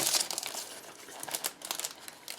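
A package holding a sheet of flowery punch-out designs is opened by hand, giving close, busy crinkling and rustling of packaging throughout, with brief sharper crackles.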